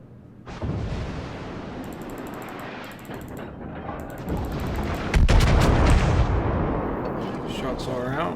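Naval artillery salvo from the French battleship Dunkerque in World of Warships, booming heavy gunfire with a loud low blast near the middle, under ongoing game sounds and a voice talking.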